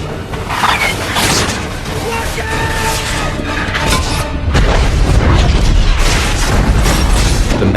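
A dense, roaring blast of a rocket launcher firing napalm, with heavy low rumble, building into a louder explosive surge partway through.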